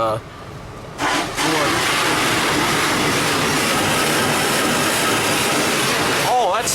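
Automatic ultrasonic car wash machinery runs with a loud, steady broadband roar of spraying and mechanical noise, starting after a brief quieter moment and continuing throughout, with a faint voice near the start.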